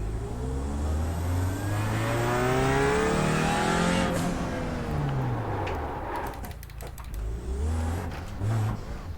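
A race car at full throttle on the Belle Isle street circuit in Detroit, its engine note sweeping up through the gears and then dropping. It sounds loud and close, with a pass-by and no voices.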